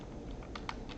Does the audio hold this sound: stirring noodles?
no